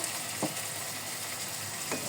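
Ash gourd and fish curry sizzles in a pan as it is cooked down: a steady, soft frying hiss with two brief stirring scrapes.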